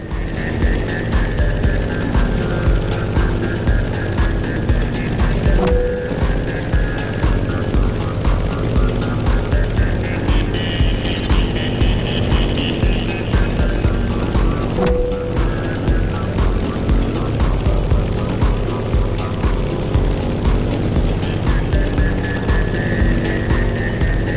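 Airplane flying in The Crew Motorfest racing game through heavy turbulence, a loud steady throbbing propeller drone with engine hum that continues throughout, a voice speaking faintly under it.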